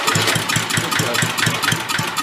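Vintage Mite-e-Lite generator engine running rough and uneven in steady low pulses, close and fairly loud, alone with no voices.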